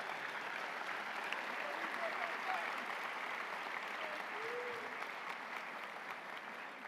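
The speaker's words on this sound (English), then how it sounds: "Yeah, applaud yourself." A graduating class at a Catawba College undergraduate commencement breaks into sustained, even applause from a large indoor crowd, with a voice faintly audible beneath the clapping.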